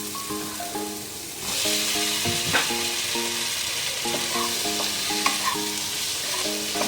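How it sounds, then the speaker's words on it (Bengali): Taro pieces fry and sizzle in spiced oil while being stirred in a pan, a steady broadband hiss rising after the first second, with scattered scrapes and clinks over faint background tones. "দেখুন এবার মশলাটা তেল ছেড়ে এসছে, তার মধ্যে আমি কচুগুলো দিয়ে দেবো।"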